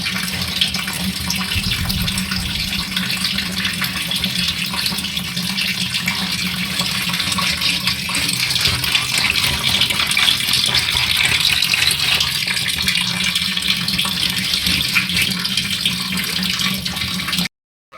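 Tap water runs steadily into a sink while singi fish are rinsed and rubbed clean by hand, a continuous close gushing splash that stops abruptly at the end.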